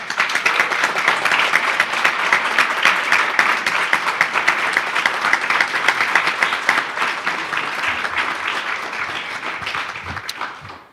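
An audience in a school district candidate forum gives a sustained round of applause for student volunteers, dense clapping from many hands that holds steady for several seconds before tapering off at the end.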